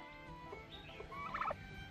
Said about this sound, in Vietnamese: Bạn gà Tây nhá.